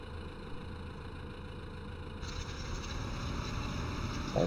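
A farm tractor engine idles steadily at close range before windrowing work in a field, a low continuous rumble that thickens slightly partway through, with no one speaking.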